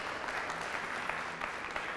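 A church congregation applauds in a continuous, fairly quiet wash of many hands clapping, even and unbroken from start to finish.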